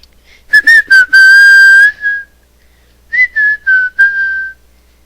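Someone whistles a WWE entrance theme, a loud, close melody in two bursts of short, punchy notes and a held note, with a pause in between.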